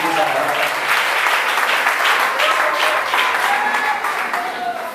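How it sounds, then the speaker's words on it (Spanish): Steady applause from a church congregation fills the room, sustained clapping at an even level with voices faintly mixed underneath. "Dale ese aplauso al Rey de Reyes"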